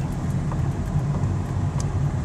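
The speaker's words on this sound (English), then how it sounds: "This truck is leaving." A truck pulling away near a narrow bridge by Blue Hole on the Ocoee, a steady low engine and road rumble over outdoor ambience, holding at moderate level without a clear fade.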